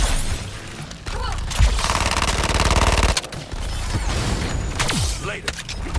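Rapid automatic gunfire in the Suicide Squad: Kill the Justice League video game, a loud sustained burst of shots over rumbling combat noise, with character voices talking over parts of it.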